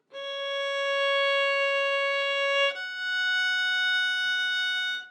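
A violin plays a slow, sustained note from Gymnopedie, breaks off for a short one-beat rest, then moves to a second long, smooth bowed tone, clear and solo in a quiet room.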